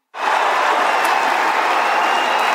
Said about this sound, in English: the crowd just lifts with energy